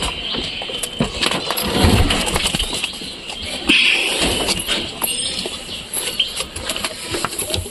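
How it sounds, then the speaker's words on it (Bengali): Domestic pigeons sit by their nest boxes and under a water tap, giving soft intermittent coos amid rustling and wing movement. The sound is close and fairly busy, with scattered knocks and faint background noise. "এই দেখো বন্ধুরা, কবুতর কলের নিচে কত সুন্দর বসে আছে।"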